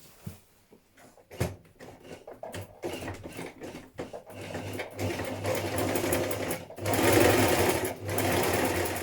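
A sewing machine stitches buttonholes on a hoodie in bursts, starting with short stop-start runs and building to longer steady whirring passages, close and clear with light handling clatter between.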